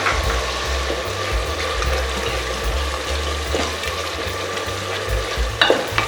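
Ginger and garlic sautéing with softened onions in a pan, a steady close sizzle with occasional stirring scrapes and a brief clatter near the end, alone without voices.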